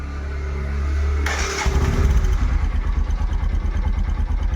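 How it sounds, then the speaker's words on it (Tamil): A motorcycle with 40,000 km on its clutch plate cranks and catches, then settles into a loud, steady idle with a rapid, throbbing pulse close by. "இப்போ ஸ்டார்ட் பண்ணி இன்ஜினை கொஞ்ச நேரம் ஒரு ரெண்டு செகண்ட் மூணு செகண்ட்"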